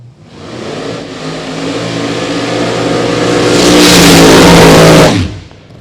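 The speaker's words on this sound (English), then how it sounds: "Brings that car through the water, lights the tires, goes all the way down the racetrack" A big block funny car roars down a drag strip with a loud sustained engine howl that builds to a peak, then cuts off sharply near the end, close and dominant with no talk.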